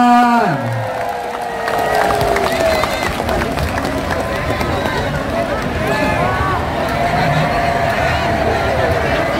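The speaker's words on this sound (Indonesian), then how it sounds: "Yang tidak bawa bendera, tepuk tangan." A large political rally crowd in Depok claps and cheers in a continuous dense roar, with a voice shouting over a PA system at the start and a loud, sustained wash of hands and voices throughout.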